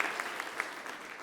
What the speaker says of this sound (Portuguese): Uma salva de palmas para o nosso pessoal aqui